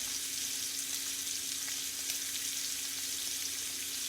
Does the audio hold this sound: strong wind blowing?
no